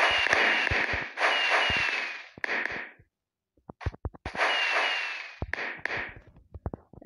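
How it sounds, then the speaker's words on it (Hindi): Firework rockets burst overhead on a festive night, a series of loud crackling, sizzling explosions with sharp pops, long hissing crackles and brief pauses between volleys. "रॉकेट देखो, रॉकेट कैसे फट रहा है।"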